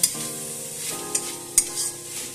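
A spoon stirs banana-stem curry with potatoes, chickpeas and ghee in a pan, giving a soft, continuous sizzle broken by a few sharp scrapes and clinks against the metal.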